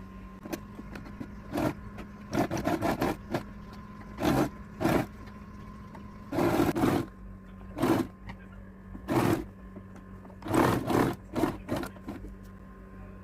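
A sewing machine stitching a folded fabric tube for a flower design, running in repeated short whirring bursts of a second or so, separated by pauses over a steady low hum.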